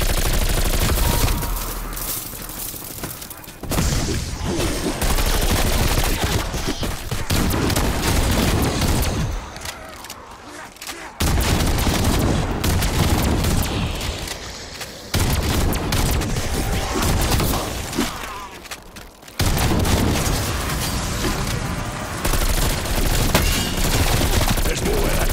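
The Death Machine minigun in Cold War Zombies rips through long, dense sustained bursts at close range. A few brief pauses break the fire before it resumes just as loud.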